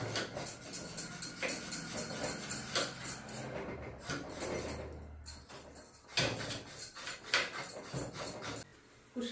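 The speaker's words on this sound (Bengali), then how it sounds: "কুশিটা ছুলে নিয়েছি" Ridge gourds being peeled by hand in a kitchen, with a steady run of soft scraping and rubbing strokes, close and moderately loud, broken by a few brief pauses and light knocks.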